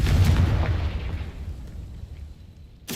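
A Confringo fire spell in Hogwarts Legacy goes off as a single heavy explosive boom, loud and close, with a rumbling tail that fades over a couple of seconds, then a new burst at the end.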